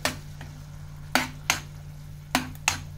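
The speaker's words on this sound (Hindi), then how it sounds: "और अच्छे से मिक्स कर लेंगे।" Ground tomato puree being stirred into cooking black-eyed peas in a pan, with a low steady simmer and a few sharp spoon scrapes and knocks against the pot, close and distinct.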